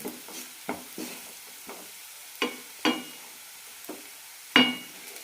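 Onions are sautéed on a low flame, heard as a series of distinct spatula scrapes and taps against the pan, about eight strokes spread unevenly over a faint, quiet sizzle.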